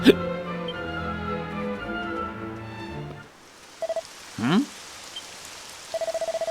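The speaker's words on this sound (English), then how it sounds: "Rain? It is raining? Truly, it is raining at long last." Rain falling in Dragon Quest VII starts as a soft hiss after the game music cuts off, with short beeping text blips and a brief whooshing effect over it.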